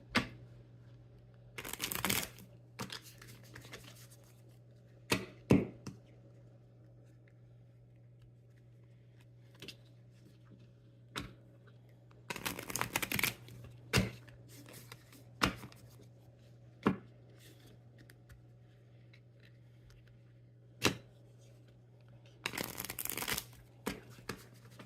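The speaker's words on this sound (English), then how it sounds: "Let's see what the tarot cards have to say. We'll shuffle these up" Tarot cards shuffled by hand in a card reading, with several bursts of riffling separated by quieter stretches, plus occasional single taps and snaps over a steady low background hum.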